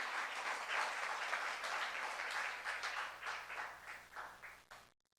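A church youth congregation applauds during a sermon, a broad wash of clapping that slowly fades before cutting to silence.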